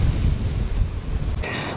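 Ocean waves wash onto a sandy beach at the low tide line, a steady broad roar of surf with some wind buffeting the microphone and a brief brighter hiss of water near the end.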